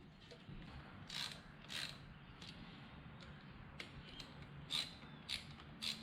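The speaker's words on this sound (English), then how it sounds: "I use the ratchet one-handed to tighten those two bolts" A ratchet clicks while tightening two bolts on the engine cover of a KLR 650 motorcycle, with short bursts of rapid pawl clicks repeating at close range, fairly quiet with no talking.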